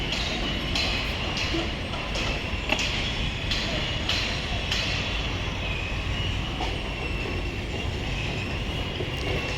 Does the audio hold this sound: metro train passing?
yes